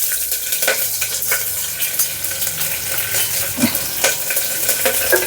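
Green chillies frying in a pan for Telugu tomato rice, with a steady close sizzle, scraping stir strokes and occasional utensil clinks throughout.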